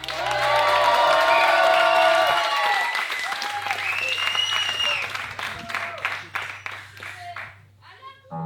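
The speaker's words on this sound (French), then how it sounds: "faites un maximum de bruit s'il vous plaît pour Kelro, Timé et Adoum." Large live audience bursting into loud applause with cheers and whoops at a French stage show, sustained clapping that thins toward the end as a low instrumental backing tone enters.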